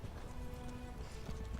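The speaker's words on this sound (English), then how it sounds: "Look at my horse." Horse hooves in The Elder Scrolls Online video game beat out a soft, steady clip-clop beneath a busy layer of game sound, with no talking during it.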